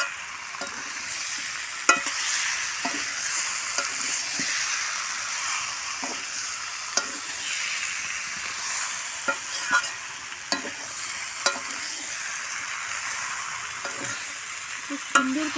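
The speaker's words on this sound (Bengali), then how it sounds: "খুব সুন্দর করে আমি কষিয়ে নিয়েছি" A whole tomato with spices sautéing in a pan, giving a steady close sizzle with repeated scraping stirs spaced every second or two throughout.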